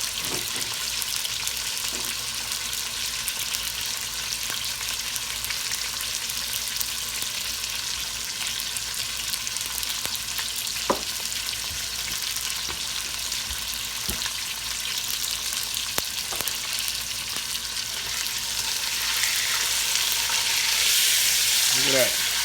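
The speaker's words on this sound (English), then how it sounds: "I wanna sear it on both sides, y'all." A beef shoulder sears in a hot pan, giving a loud, steady sizzle and crackle for the whole stretch, with a few light clicks as it is handled and the fizz growing a little louder near the end.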